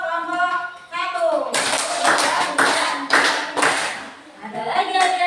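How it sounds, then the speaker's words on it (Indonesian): A primary school class in Indonesia claps five times in rhythm for group 1, bursts of crisp hand claps from many children, with a teacher's voice before and after. "beri 5 tepuk untuk kelompok 1"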